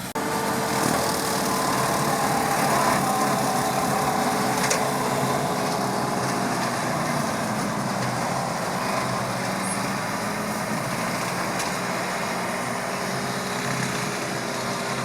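A tractor runs a New Holland Boomer quick attach brush mower, its engine droning loud and steady with continuous mechanical roar and no pauses.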